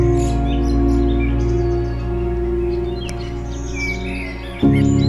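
Small birds chirp at dawn on a long walking route around Vilnius, with faint, thin tweets scattered high above a loud, steady low hum that briefly jumps near the end.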